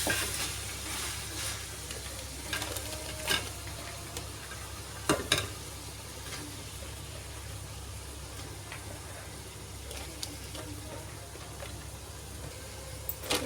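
Chicken frying with softened tomatoes in a pan: a low, steady sizzle broken by repeated spoon scrapes and knocks against the pan at irregular intervals, fairly quiet and close.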